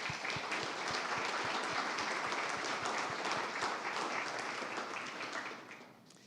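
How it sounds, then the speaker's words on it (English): Indoor audience applause at a startup demo day event, with dense, steady clapping from a sizable crowd that holds evenly and then tapers off at the end. "if you could stand so we can give you applause."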